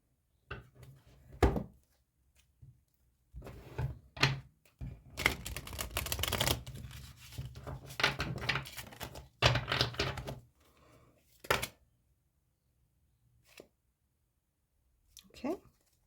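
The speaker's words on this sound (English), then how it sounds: "I'm just going to shuffle quick." Tarot cards shuffled by hand for a reading, with bursts of riffling and soft flapping separated by thuds and pauses, close and moderately loud.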